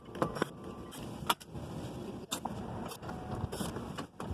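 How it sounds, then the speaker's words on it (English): Ratchet and 8mm socket working on bolts under a BMW N54 car's underbody pan, with short scattered metallic clicks and clanks against a steady hum in a garage. "grab yourself an 8mm socket. We're gonna start removing all these bolts that hold this piece right here"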